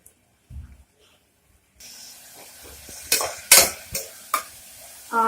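Masala is sautéed with browned onions in a pan, starting near silence, then a soft sizzle with several sharp, close spoon scrapes and clinks against the pan in quick succession.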